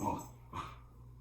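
A dog close by gives two short barks with a whimpering edge, a brief yelp followed by a second bark, loud against a quiet room.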